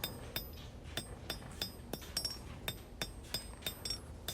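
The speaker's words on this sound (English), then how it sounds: "I'm not chasing the steel with the hammer. I'm moving the steel under the hammer." Hand hammer forging a steel knife handle for a drop point hunter, thinning its width: a steady series of sharp ringing blows, roughly evenly spaced, close and clear with no talk.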